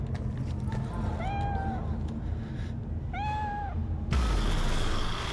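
A kitten in Cyberpunk 2077 meows twice, thin high-pitched cries with rising-falling harmonics over a steady game background hum, followed by a burst of louder ambient noise.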